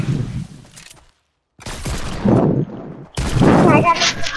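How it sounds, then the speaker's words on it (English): Shotgun blasts in the Fortnite video game, with several loud, sharp gunfire bursts separated by brief pauses, one near-silent gap, and dense game action around them. "He shotgunned me!"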